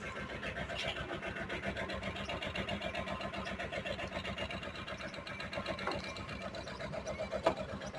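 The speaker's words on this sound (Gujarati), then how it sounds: "ફાઇનલી ટ્રેક્ટર આપણે ચાલુ કરી નાખ્યું।" A small mini tractor engine runs close by, a fast, even mechanical chatter that holds steady, with a brief louder knock near the end.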